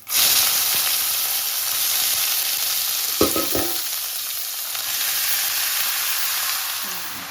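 Vegetables tipped into a pan of fried fenugreek seeds and green chillies: a loud, continuous sizzle of frying with a brief clatter and burst as they go in.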